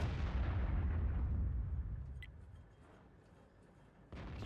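Tank gun firing in World of Tanks: a heavy, booming shot with a long rumbling decay that fades over a few seconds, followed by a short sharp burst near the end.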